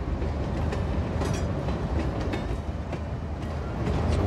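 Train rolling along in the city-building game Cities Skylines 2, a steady, dense rumble of wheels on rails with faint clicking throughout, continuous and fairly close.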